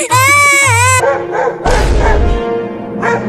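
A dog in a Hindi comedy sketch gives loud, close barks and yelping whines in quick bursts, with brief voice-like sounds mixed in.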